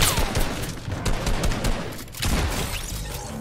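Rapid bursts of gunfire in Fortnite, a dense crackling fusillade of overlapping shots running throughout, loud and without speech.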